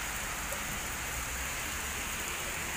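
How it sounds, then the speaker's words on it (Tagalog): Heavy rain falls in Hong Kong, a dense, steady hiss of drops drumming on surfaces, loud and unbroken throughout, with no voices. "grabe yung ulan"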